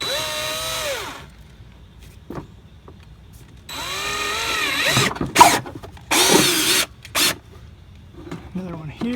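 A power drill whines in several bursts while boring holes through a plastic fender liner on a Jeep Wrangler JK, close and loud, its pitch rising as the bit spins up, with short pauses between holes.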